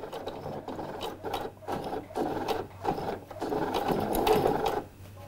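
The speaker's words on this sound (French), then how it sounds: "Je vais faire quelques points en arrière." A sewing machine backstitches right against the teeth of a zip, stitching it onto the main fabric. It runs in short, quiet mechanical bursts separated by brief pauses, with a slightly longer run near the end.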